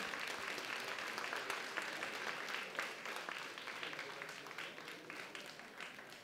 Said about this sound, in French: On applaudit encore bien fort.